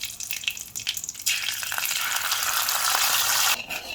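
Ginger garlic paste hits hot oil in a pan with mustard seeds and curry leaves, bursting into a loud, steady sizzle after a second of lighter crackling, then easing off near the end.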